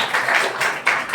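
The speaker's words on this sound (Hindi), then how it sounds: "जोरदार प्रभु के लिए ताली बजाइए।" A church congregation claps for the Lord during a sermon, with several rhythmic bursts of many hands clapping together in quick succession. The clapping is close and fairly loud, and no voices are heard.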